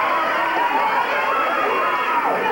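Wrestling crowd at an AWA Southern tag-team match in a packed arena roars steadily in cheering response, a dense, continuous wall of voices sustained throughout.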